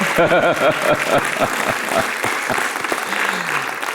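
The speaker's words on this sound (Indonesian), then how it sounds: "berikan tepuk tangan buat Pastor Rosa" Church congregation applauding Pastor Rosa, a full roomful of hands clapping in a thick continuous roar, with a speaker's voice carrying over the start before the clapping settles into a steady wash.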